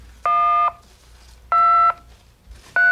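Three evenly spaced keypad tones from a cellular car-to-car telephone as an unlock code is entered, each a clean, steady beep of about half a second, loud and close with short quiet gaps between.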